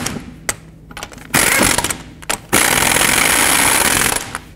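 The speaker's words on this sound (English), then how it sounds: "Start on all of your lug nuts, snug them down, and then I'm going to torque them to 140 foot-pounds." Lug nuts being run down and torqued to 140 foot-pounds on the wheel hub of a 2007-14 Chevy Silverado, loud close bursts of mechanical ratcheting and clattering with short pauses between them.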